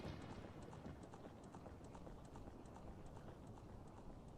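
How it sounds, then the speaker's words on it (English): Horse hooves clip-clop at a steady, even trot in The Legend of Zelda: Ocarina of Time, quiet and regular over a soft background bed. "just a little B-roll of a man riding on a horse"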